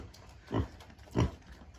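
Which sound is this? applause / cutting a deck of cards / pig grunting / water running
pig grunting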